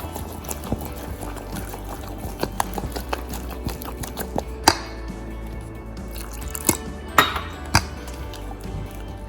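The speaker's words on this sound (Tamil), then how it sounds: "நல்லா ஃபாஸ்ட்டாக விஸ்க் பண்ணணும்." Fast whisking of bajji batter in a bowl, a rapid train of light metallic taps and clinks with a few sharper knocks against the side, close and fairly loud with no talking.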